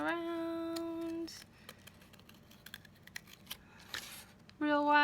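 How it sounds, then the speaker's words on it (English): Scissors snip through paper while a paper half moon is cut out, giving a quick run of sharp, close clicks and crisp cuts, with a speaking voice before and after the cutting. "Open your scissors real wide, curve him around."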